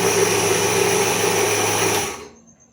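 Electric mixer grinder, an Indian Swadeshi model, grinding wheat into flour: a loud steady motor whine runs for about two seconds, then winds down and fades out as it is switched off.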